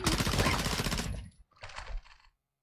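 A P90 submachine gun fires in a video game as one dense, rapid automatic burst lasting about a second, then a shorter second burst after a brief gap. No voices.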